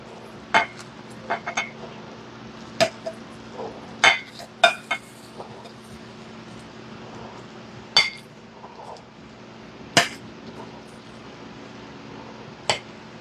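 A metal spoon scrapes and clinks against a dish while scooping out peach cobbler, producing a dozen or so sharp, bright taps at irregular intervals over soft background hiss, close and fairly quiet.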